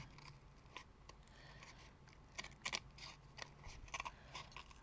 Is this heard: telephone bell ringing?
no